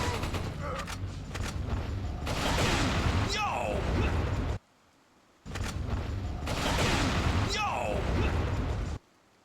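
Gunfire in the video game Wolfenstein: The Old Blood, two loud dense bursts of rapid shots and blasts separated by a brief near-silent gap.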